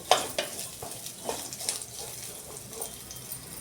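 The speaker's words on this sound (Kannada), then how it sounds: "ಇದನ್ನ ಹುರ್ಕೊಳ್ಳೋಣ್ರಿ ಹಿಂಗೆ ಎಣ್ಣೆ ಒಳಗೆ ಫ್ರೈ" Frying onions in oil in a pan on a low flame while making rice rava uppittu, heard as a steady close sizzle broken by several sharp stirring scrapes.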